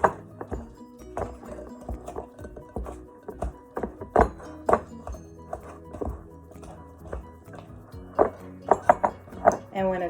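A spoon mixes nuts into banana bread batter, giving irregular close thunks and knocks against the bowl with uneven pauses between them. A few strokes come in quick clusters near the end.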